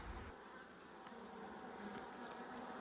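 A steady, dense buzzing of many honeybees fills the whole stretch, close and continuous with no voices.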